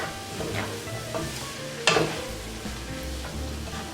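Egg roll filling with a tablespoon of sesame oil being stirred in a frying pan: a constant sizzle broken by spatula scrapes and one sharp clatter midway, close up with no talking.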